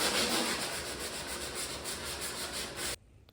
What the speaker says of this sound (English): we then used a sanding block to smooth out those spots and prep the wall for paint